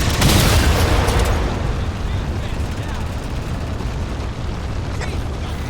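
A railgun shot explodes in Halo 4, a loud booming blast at the start that fades into a long rumbling roar while a voice speaks over the noise.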